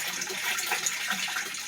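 Water draining out of a tilapia tank, a continuous close splashing, gushing flow with bright bubbly spatters, steady throughout with no talking.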